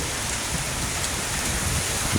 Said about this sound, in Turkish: Evet şu oluktan akan suya bak.